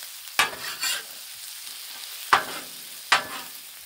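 Homemade ghee on a hot Blackstone griddle, a soft steady sizzle with sharp scraping stirs from a spatula, about four distinct strokes, close and clear with no talking.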